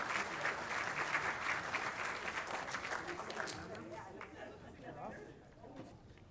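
A city council audience at a Lakewood celebration applauds the WaterWise award winners. The clapping sounds distant and faint and mixes with crowd chatter, then fades out partway through as murmuring voices remain.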